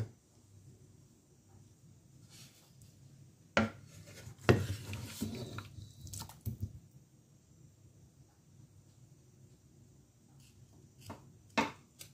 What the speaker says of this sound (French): Je vais disposer mes pommes de terre déjà cuites.